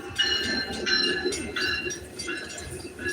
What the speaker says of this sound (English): It's called the Metro train.